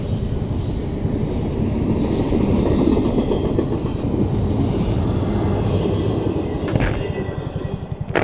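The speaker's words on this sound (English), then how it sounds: "You can watch the train go by." A train rumbles past nearby with steady clickety-clack of wheels on rails, loud and continuous, with a brief squeal near the end.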